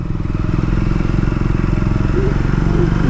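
A Scrambler 400X motorcycle rumbles along under a rider with a steady, throbbing single-cylinder beat and rushing wind, loud and close, with a voice faintly present.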